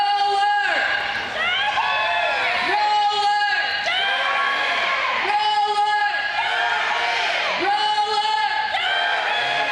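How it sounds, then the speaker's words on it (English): Spectators at a roller derby bout between Atomic City Roller Girls and Walla Walla, cheering and whooping loudly and continuously, with rhythmic bursts of yelling and shouted voices swelling every couple of seconds. "You can cheer right now, and they can hear it, and you can cheer them on."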